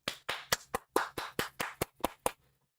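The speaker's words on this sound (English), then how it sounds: "Clapping like the dumb seal I am." Bare hands clapping up close, about ten sharp claps in an uneven rhythm, heard alone and ending after a couple of seconds.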